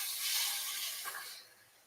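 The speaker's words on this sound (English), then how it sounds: "And yeah, there's a lot of steam happening here." Sherry hitting a hot pan to deglaze it, giving a loud, close burst of hissing steam that sputters briefly and then fades over about two seconds.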